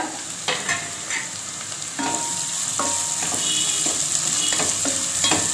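Chopped onions frying and being stirred in a pan for tomato biryani, a steady sizzle with occasional scraping and clinks of the spoon, close and alone.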